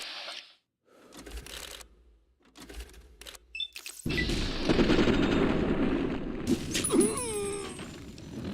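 Gunfire in Fallout New Vegas with a few quiet shots, then a burst of loud, dense shooting and crashing impacts that runs on for several seconds, close and harsh, ending with a short sweeping effect.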